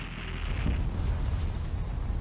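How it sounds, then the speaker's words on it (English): Challenger Space Shuttle launch ignition: a deep, sustained low rumbling roar that swells in and holds steady, loud and continuous with no voices. "As the vehicle ignited and cleared the launch tower"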